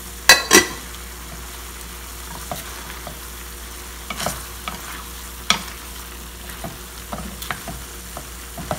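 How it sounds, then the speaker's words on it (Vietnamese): Spaghetti stir-fried with carrot and onion in a pan, giving a quiet steady sizzle broken by sharp scraping and clinking strokes of a utensil at irregular intervals, with no talk. "Cà rốt với hành mình vào, mình trộn đều lên."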